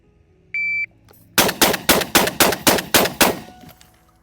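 A shot timer beep, then a rapid string of about eight sharp gunshots from a semi-automatic shotgun or rifle fired at targets on a range, loud and evenly spaced before trailing into quiet.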